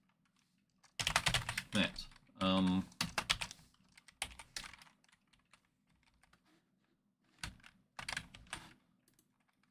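Keystrokes clatter on a computer keyboard while setting up a Raspberry Pi controller, coming in dense bursts separated by pauses, with a person speaking briefly between the typing.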